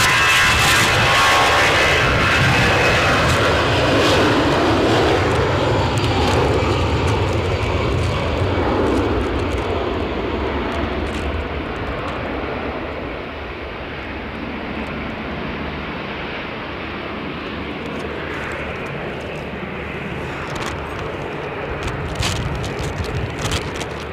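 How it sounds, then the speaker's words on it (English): An EasyJet jet airliner bound for Amsterdam flies past at Edinburgh airport in wet weather with gusty crosswinds: a loud, sustained jet engine roar that gradually fades as the plane moves away, with wind noise in the background. "EasyJet to Amsterdam. That's what this one's bound for."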